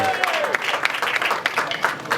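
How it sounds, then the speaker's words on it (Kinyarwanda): Wedding guests clap together in a dense, steady burst of applause at a Rwandan wedding, crowded and fairly close, with no clear voices standing out. "Amashyi menshi bashimye cyane."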